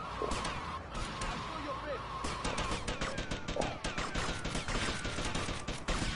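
Rapid bursts of gunfire crackle in Vice City, dense volleys of sharp shots repeating across the whole stretch, with a person talking over them.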